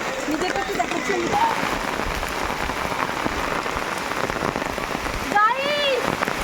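Heavy rain pours down on surfaces outdoors in a dense, loud, steady hiss, with a few voices talking faintly beneath it.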